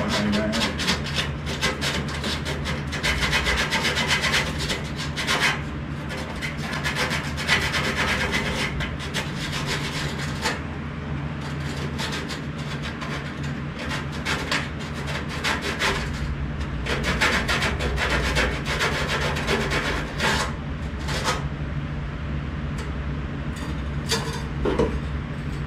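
Rasping and rubbing from cleaning drill-bit burrs off metal on the cab of a 1949 Jeep Willys pickup, a continuous scraping with repeated strokes, fairly close, over a low hum.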